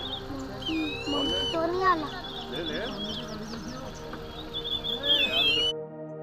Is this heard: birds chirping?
yes